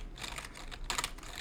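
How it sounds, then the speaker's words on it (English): Quick keystrokes clatter on a computer keyboard in a short, irregular burst of clicks, close and fairly quiet, with no voices. "typing in Mickey's name"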